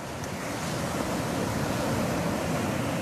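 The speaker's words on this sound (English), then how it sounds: "I don't know if you're hearing the waves of the sea." Sea waves at Kanhangad Beach in Kerala: a continuous broad wash of surf with some wind noise, steady and fairly loud, without any voices.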